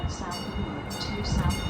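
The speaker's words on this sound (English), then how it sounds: "as the train comes by" A train rolls past with a steady rumble and some hissing surges, heard at moderate level and mixed with a voice.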